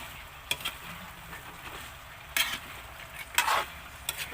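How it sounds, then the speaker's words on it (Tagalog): Chicken in buffalo wing sauce sizzles quietly in a pan, with a few brief scraping stirs breaking through the steady low frying. "Lagay na natin itong ating mga chicken. Then, haluin."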